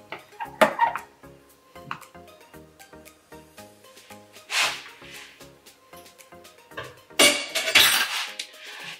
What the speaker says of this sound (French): je vais essayer de remuer un peu